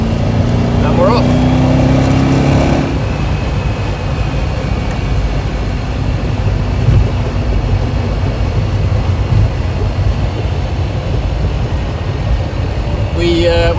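MGB GT V8 cruises on the motorway with a steady, loud engine drone and heavy road and wind rumble inside the cabin, after a brief engine rise at the start.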